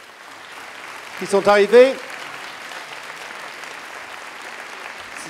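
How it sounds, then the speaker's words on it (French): Conference audience applauding guests at the Cité des Sciences in Paris: a steady wash of clapping throughout, briefly overlaid by someone speaking near the microphone. "Peut-être quelques applaudissements pour tous nos invités très prestigieux"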